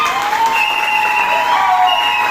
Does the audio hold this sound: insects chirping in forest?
no